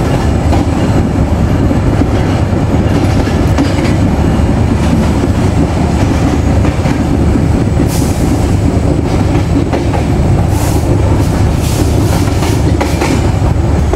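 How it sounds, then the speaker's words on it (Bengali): The Kapotaksha Express rolls through Daulatpur station in Khulna, heard from on board as a loud, continuous rumble of wheels on rails with rhythmic clickety-clack and a few brief sharp squeals from the track near the end. "আমাদের ট্রেন এই মুহূর্তে পার করছে খুলনার দৌলতপুর স্টেশন।"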